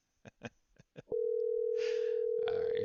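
Brief voice-like sounds give way to a steady, loud ringback tone on an outgoing phone call placed to a lottery scammer, holding continuously for nearly two seconds.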